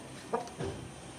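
A chicken gives two short, close clucks about a quarter second apart, fairly quiet, with no talking around them.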